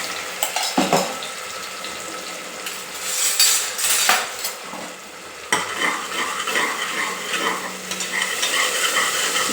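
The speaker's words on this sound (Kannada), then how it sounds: "ಈಗ ರುಬ್ಬಿಕ್ಕಿರೋ ಮಸಾಲ ಹಾಕ್ತಾಯಿದ್ದೀನಿ" Ground masala for an egg and chicken sambar is tipped into hot oil, sizzling and frying while a utensil stirs and scrapes the pan in irregular bursts, close and fairly loud with no talking.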